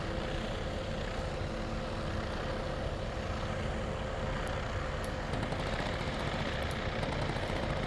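Shrike 530F helicopter flying in Microsoft Flight Simulator 2024, a dense, continuous whirring engine and rotor drone with a faint steady whine, loud and unbroken throughout.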